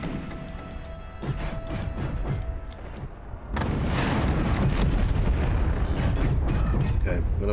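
Weapons fire in the naval battle game Forts, dense rumbling booms and blasts that swell into a sustained loud barrage partway through, with the player talking over it.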